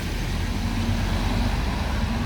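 A city bus on line 114 rolls past on an icy street in Traneberg, Stockholm, a steady low engine rumble with broadband road noise, moderately loud and close, with no talk.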